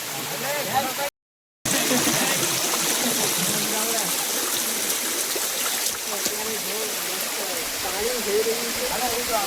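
A monsoon waterfall at Girnar rushes in a steady, loud roar of pouring water while people play in it, with voices talking over the flow and a brief break partway through.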